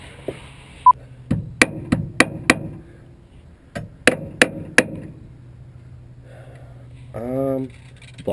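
Hammer striking repeatedly during a repair, about ten sharp close knocks in quick bursts with pauses between, fairly loud, with a brief mechanical whine near the end.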